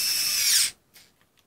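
A SKIL powered screwdriver whirs loudly as it loosens a screw, a short steady motor burst that stops abruptly, followed by a faint click.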